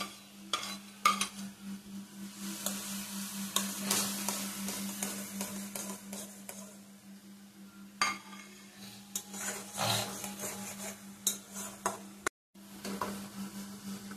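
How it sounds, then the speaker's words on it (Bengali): Grated boiled potato is tipped into a pan and stirred, producing close spoon scrapes and clinks over a gentle sizzle with a steady low hum underneath, with a brief dropout near the end and no voices. "এর মধ্যে গ্রেট করা সেদ্ধ আলুটা দিয়ে দেবেন।"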